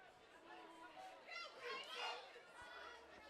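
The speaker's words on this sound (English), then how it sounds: "Crowd is raucous at the reservation" A crowd at a high school football playoff game between North Laurel and Southwestern gives off a faint, distant murmur of many voices and shouts, with people talking over it.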